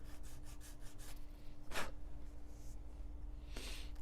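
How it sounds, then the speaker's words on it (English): Emery board rasped with its rough grit side, giving a soft scratchy stroke at about 1.8 s and another near 3.6 s over a steady low hum, with faint brushing earlier. "there's two different grits on this emery, and I'm using the rough side right now"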